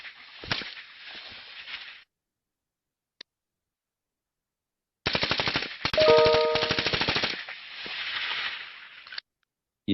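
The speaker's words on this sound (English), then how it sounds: "If we want to get the sound of gunshot" Rapid bursts of gunfire crackle in two separate volleys with a gap of silence between them, loud and sharp, with no voices.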